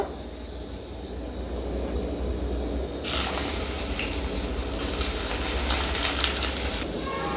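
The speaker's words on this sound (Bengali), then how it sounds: "এরপর আমি বেগুনগুলো ভেজে নেব" Hot oil starts sizzling loudly after a few quieter seconds as eggplant pieces go into the pan, then keeps up a steady, close crackling hiss.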